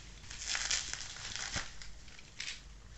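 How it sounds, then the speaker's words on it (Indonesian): Close crinkling and rustling of plastic and cardboard packaging as a rat repellent spray is unboxed, in soft irregular bursts over a low background hum. "Kemudian kita unboxing dulu nih si spraynya"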